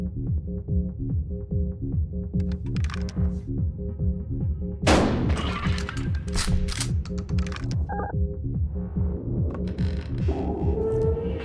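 A shotgun fires at the dealer in the video game Buckshot Roulette, a single loud broadband blast over a steady throbbing musical backdrop, followed by scattered clicks and mechanical clatter.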